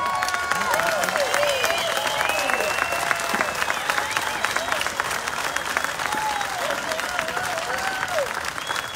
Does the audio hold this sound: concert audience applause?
yes